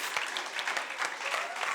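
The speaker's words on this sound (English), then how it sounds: "Give them both a round of applause" Brief burst of audience clapping at a debate and impromptu speaking competition finale, dense and even for under two seconds, moderately loud.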